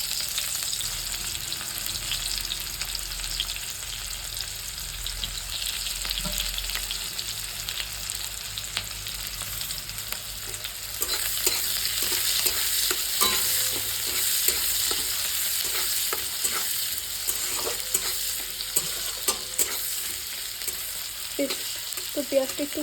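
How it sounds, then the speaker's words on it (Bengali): Cumin and chopped onion frying in hot oil in a Bengali home kitchen, a continuous loud sizzle with scraping stirring strokes and clinks growing busier in the second half. "এই একই তেলের মধ্যে দিয়ে দেবো ফোড়ন।"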